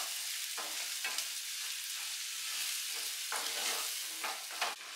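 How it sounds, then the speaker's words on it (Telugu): Chopped garlic fries in a pan until it browns, giving a continuous bright sizzle broken by several scraping stirs, loud and close, with no voices. "ఈ గార్లిక్ కూడా ఇవి 2 బాగా ఫ్రై చేసుకోవాలి"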